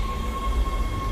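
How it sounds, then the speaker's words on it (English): A tram pulls into the flight deck station aboard a derelict spaceship in the Dead Space game, a loud steady rumble with a thin high whine over it, heard alone without voices. "Tram arriving at flight deck station."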